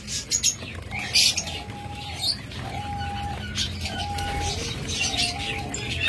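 Red pigeons at a breeder's coop coo and chirp in short repeated calls, with scattered bird sounds and faint background noise.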